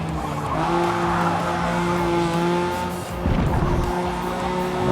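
Engine of a 2005 Honda NSX-R race car in a racing game holds a steady high drone while accelerating at Road Atlanta, with tire squeal and a shift in pitch near the end.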